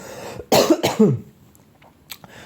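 A couple of harsh, close coughs in quick succession, followed by quiet breathing and a faint throat sound.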